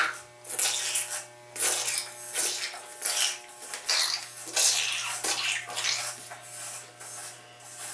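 Electric hair clippers buzz steadily and close by through a men's fade haircut, the motor hum constant while the blade pitch and loudness rise and fall in repeated passes against the hair.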